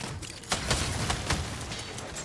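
Gunfire in the video game Saints Row 5: several sharp shots crack in quick, irregular succession over a dense, noisy game background, fairly close and moderately loud.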